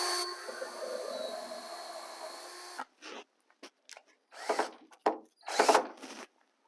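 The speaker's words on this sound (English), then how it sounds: "the box frame gets attached to the stand with a few strategically placed screws" A power drill whirs steadily for a few seconds, then drives screws into the wooden box frame of model railroad layout benchwork in short bursts of buzzing and clicks, close by and alone.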